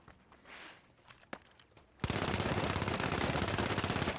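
The M11 gun in The Finals fires in a sustained, loud automatic burst while the player strafes side to side, starting abruptly after a couple of seconds of quieter footsteps and game sounds.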